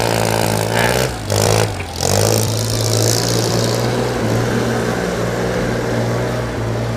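Kubota L3408 DG tractor, a 2007 used unit reconditioned for sale, runs at a steady idle with a deep, continuous diesel drone close by, dipping briefly twice early on.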